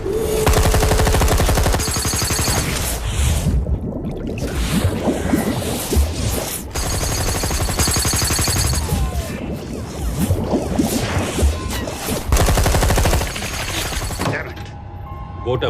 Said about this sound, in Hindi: फायर करो उधर पानी में।